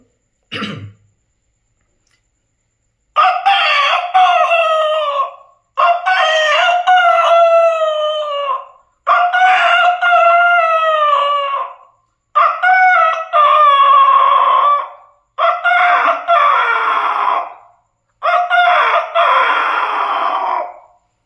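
A voice imitates a rooster crowing, repeating the drawn-out cock-a-doodle-doo six times in loud, evenly spaced bursts after a short sound at the start.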